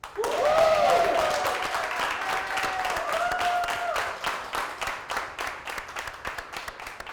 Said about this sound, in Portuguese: Agora uma salva de palmas para Ruivo Lopes